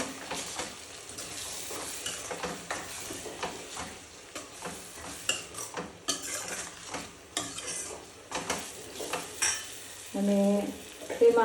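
Roasted eggplant mash (ringan no oro) being stirred with lemon and sugar in a pot, giving a steady run of scraping, squelching spoon strokes with faint clinks, close and moderately loud, without speech.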